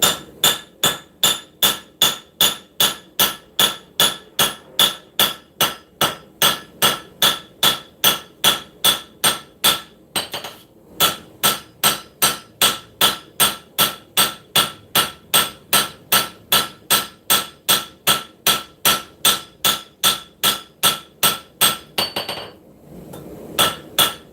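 Hammer forging steel in a shop: rapid, evenly spaced ringing metallic blows struck dozens of times in a steady rhythm, close and loud, with one brief pause near the middle and a short break before the end.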